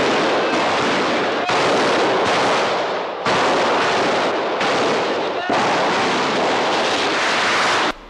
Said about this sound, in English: The paratroopers open fire